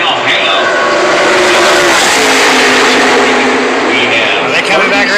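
NASCAR stock cars race past at Talladega in a roaring pack, a loud continuous engine wash with rising and falling Doppler sweeps, while voices talk over the din.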